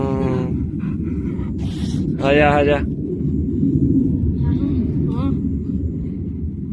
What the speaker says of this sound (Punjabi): ਜਹਾਜ਼ ਦੇਖਦਾ ਜਹਾਜ਼